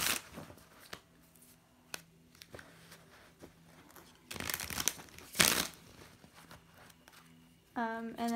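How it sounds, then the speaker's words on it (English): A deck of cards is shuffled by hand in a few quick riffling bursts with light papery clicks and handling noises in between, close and fairly quiet, ending with a brief voice. "I'm going to shuffle them again a few more times."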